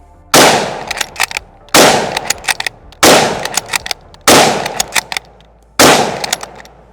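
A MAS-36 bolt-action rifle fires five rounds as fast as possible: five loud, evenly spaced, booming shots, each followed by quick metallic clacks from the bolt being worked between them.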